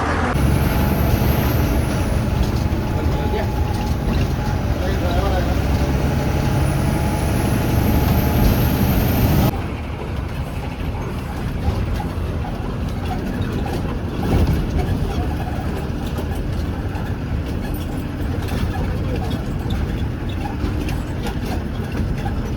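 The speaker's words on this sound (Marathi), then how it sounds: "आपण आता मिरज बसस्थानक येथे पोहोचलो आहोत" An MSRTC bus idles at Miraj bus station at night, a continuous heavy diesel rumble close by. The drone shifts slightly partway through and holds steady to the end.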